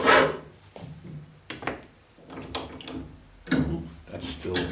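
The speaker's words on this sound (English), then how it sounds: "I'm going to hand file these welds" Hand filing welds on a clamp knurler: several rasping file strokes in bursts, close and fairly loud, with pauses between passes.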